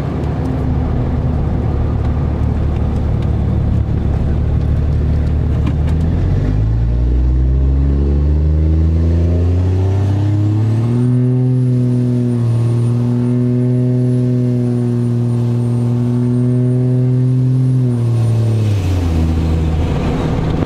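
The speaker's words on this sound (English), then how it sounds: "I'm just kind of laying into it nice and smooth to do an acceleration" A Cummins 5.9 diesel truck on a daily-driven street road accelerates in a smooth, partial-throttle pull, its loud engine drone rising steadily in pitch, holding, then easing off, with no talking.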